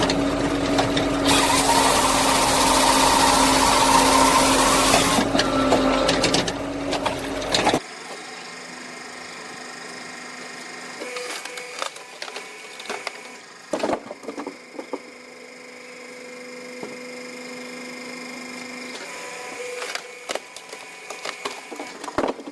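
Split X 450 wood splitting machine with a 5-tonne Yanmar engine, running loud and dense at first, then a steady lower mechanical hum broken by scattered knocks and clicks of the splitting work.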